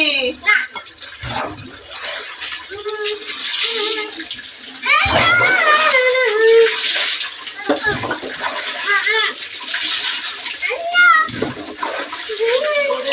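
Water splashes and pours loudly and up close while a child is bathed, with gushing bursts and sloshing throughout, and a voice and an adult's voice heard over the water.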